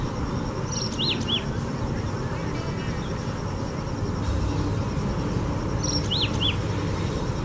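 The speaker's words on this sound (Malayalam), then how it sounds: "കിളികളുടെ കലപിലയെല്ലാം കേട്ട് ഇവിടെ ഇരുന്ന സമയം പോയതറിഞ്ഞില്ല" Birds in a village near Venkalakkayam Dam outside Palakkad give a few faint, high chirps near the start and again near the end, over a steady low rumble of background noise.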